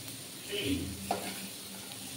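Spices sizzle softly in a pan for a yam curry as they are turned, a low steady fry with a brief stirring scrape partway through.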